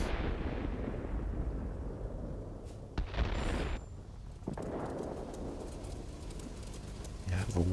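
Bombs dropped on airfield targets in a flight combat game, several dull explosions thudding at intervals beneath constant engine drone, with a voice talking throughout.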